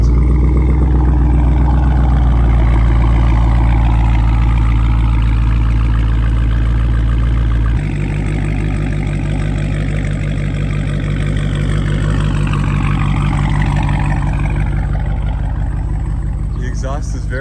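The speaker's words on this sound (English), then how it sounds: "Here's a little teaser of the exhaust." Dodge Charger Scat Pack exhaust idling, a deep, loud, steady rumble close by that drops slightly in tone partway through and continues unbroken for the whole stretch.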